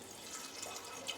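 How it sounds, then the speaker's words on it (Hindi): Water poured into a pressure cooker holding washed peas and potatoes, a soft, steady trickle and splash heard faintly and close, with no talking. "इसमें हम थोड़ा सा पानी ऐड करेंगे"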